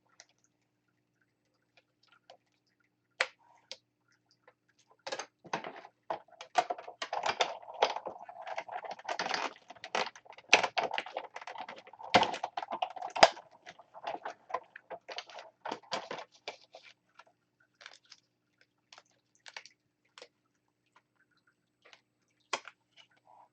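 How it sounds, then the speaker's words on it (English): A Big Shot die-cutting machine rattles and knocks against a desk while cutting, giving a dense burst of close, irregular clacks and taps that fade to a few scattered clicks. "My big shot kind of bouncing around the desk here."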